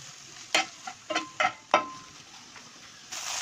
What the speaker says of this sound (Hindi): अब इसके अंदर हम शामिल करेंगे चिकन। इसको हम थोड़ी देर फ्राई कर लेंगे